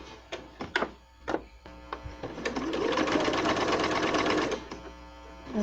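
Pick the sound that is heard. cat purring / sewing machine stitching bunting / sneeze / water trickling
sewing machine stitching bunting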